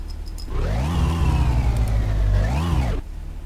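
Car engine in My Summer Car revving hard with the handbrake still on, a steady loud mid-pitched roar that climbs, holds, swells again and then cuts off abruptly, heard alone with no talking.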